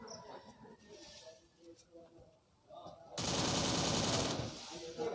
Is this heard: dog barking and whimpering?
no